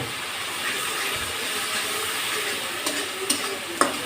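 Spices fry in hot oil in a pan with a steady, hissing sizzle that stays even throughout. A few light clinks of a utensil come near the end.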